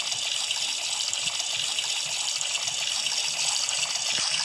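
Tap water running steadily into a basin during washing, a constant hissing splash at moderate volume with no talk over it.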